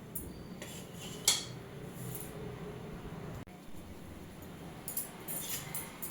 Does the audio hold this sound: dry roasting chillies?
yes